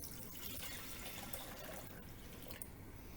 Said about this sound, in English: So I'm going to put some warm water in here.